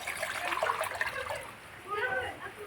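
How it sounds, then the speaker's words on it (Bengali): Water poured into a cooking pot over a mustard-oil, spice and tomato masala for a Bengali ol (elephant foot yam) dish, a soft brief splashing pour at moderate distance. "দিয়ে দেবো জল"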